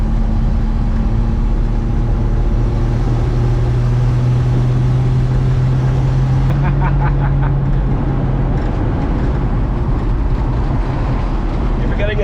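A 1960 Plymouth on its test ride with worn-out tires, a loud, steady engine drone and road rumble from inside the car, continuous throughout with a brief rattling flutter midway.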